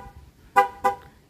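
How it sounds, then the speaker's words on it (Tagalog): Two short, loud horn honks from a 2017 Toyota Hiace Commuter van, close by and alone, evenly spaced about a third of a second apart over quiet background. "Yun, busina mga kabady."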